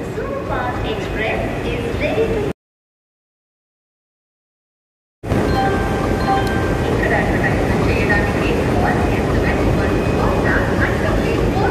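An MMTS local train at Secunderabad station gives a loud, continuous rumble and clatter of wheels and cars, broken by a brief silent gap, with people talking over it on the platform.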